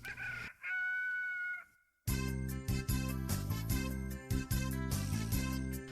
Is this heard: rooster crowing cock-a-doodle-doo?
yes